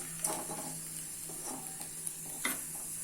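Sabudana fries in a little oil, a soft low sizzle broken by a few light stirring scrapes and taps, quiet and close.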